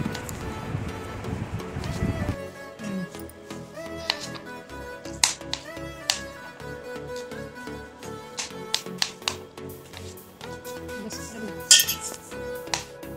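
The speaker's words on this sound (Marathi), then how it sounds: "त्यांना बारीक बारीक कापून घ्यायचे आहे" A knife taps sharply and repeatedly against a cutting board finely slicing raw tomatoes, irregular chopping clicks over faint kitchen background, following a brief burst of running water at the start.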